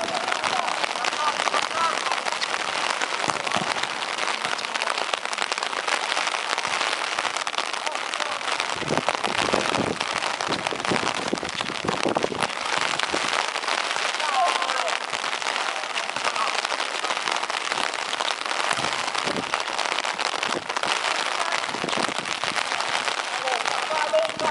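Steady rain pattering on surfaces outdoors during a Tic Tac-Off competition, a dense continuous hiss of drops lasting the whole stretch, fairly loud and unbroken.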